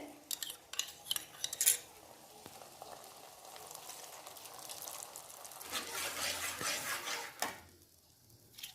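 A spice bowl is rinsed out and its water is added to a cooking pan, giving faint clinks of a metal bowl, splashing and a soft sizzle, with brief light tapping of utensils.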